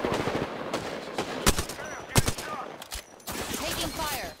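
Rapid bursts of gunfire from the Apex Legends video game crack out in sharp, repeated volleys, some loud and close, mixed with game effects and a busy battle background.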